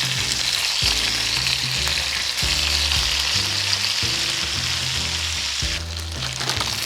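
Mackerel fries in oil with garlic and ginger, giving a loud, steady, dense sizzle throughout, with rhythmic background music underneath.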